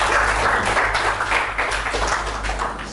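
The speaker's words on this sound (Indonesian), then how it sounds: "Kita berikan aplaus kepada Ray" A classroom of students applauds a classmate, a steady burst of many hands clapping together, loud and close, tapering off slightly toward the end.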